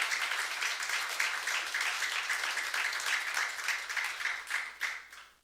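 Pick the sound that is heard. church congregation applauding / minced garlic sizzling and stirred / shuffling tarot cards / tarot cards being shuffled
church congregation applauding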